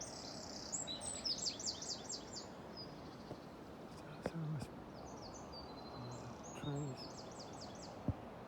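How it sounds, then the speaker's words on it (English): A small bird sings by the Avon River, repeating faint high chirping phrases over a steady wash of flowing water, with a few soft low voice sounds. "There's a little bird there behind us."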